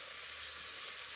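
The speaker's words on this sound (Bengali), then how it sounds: "পেঁয়াজ রসুন একটু ভাজা হলে" Onion and garlic sizzle in a frying pan while greens are cooked, a steady, even hiss throughout, fairly quiet, no voices.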